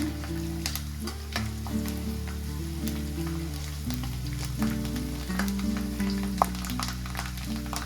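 Sliced onions fry in oil with garlic, a constant crackling sizzle under a low steady hum, with occasional soft stirring knocks throughout.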